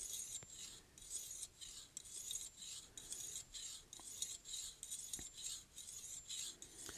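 A knife blade is drawn across a Lansky sharpening stone in repeated light strokes, a rhythmic gritty rasp of roughly ten passes, quiet and close with no talking.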